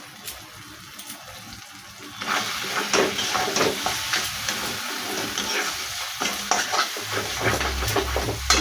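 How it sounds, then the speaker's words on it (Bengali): Turmeric, coriander and Kashmiri chilli powders sautéed in a pan for egg curry give a loud, close, continuous sizzle with scraping stir strokes, quieter at first and then swelling into a steady hiss. "ভালো করে মশলাটা কষে নেব।"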